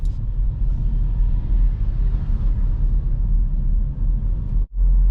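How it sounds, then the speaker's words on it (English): Steady low rumble of a manual car's engine while the driver changes down to first gear, holding a constant drone with a brief dip near the end. "Changing down to first, a little gas before fully releasing the clutch."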